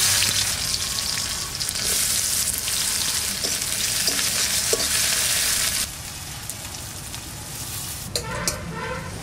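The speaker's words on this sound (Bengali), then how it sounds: "কুচনো পেঁয়াজটা দিয়ে দেবো।" Chopped onion is added to hot oil in a pan just after frying small puti fish with bay leaf and cumin, giving a loud, steady sizzle with occasional stirring scrapes throughout; the sizzle softens slightly near the end.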